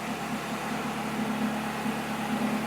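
A budget turbo build car engine idling around 1,000 rpm, a low steady hum with a faint rhythmic pulse, even and unbroken with no talk.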